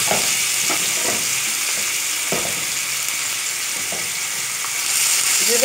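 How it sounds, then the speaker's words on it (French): Seasoned shrimp fry in melted butter in a pan, a steady close sizzle with faint crackles and occasional stirring bumps throughout, no one speaking. "je vais faire fondre mon beurre. Ensuite, je vais y ajouter mes crevettes que j'ai préalablement bien assaisonnées"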